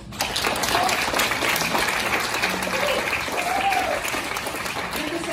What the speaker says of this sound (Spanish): Y le damos un fuerte aplauso al grupo de la danza Nueva